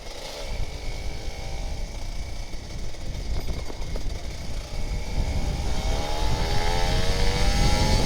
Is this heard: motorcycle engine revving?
yes